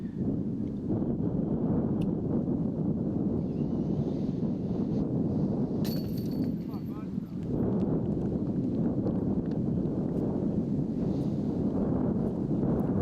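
Strong, gusty wind sweeping across a disc golf course, a steady low rush with a brief lull midway before picking back up, with no talk over it.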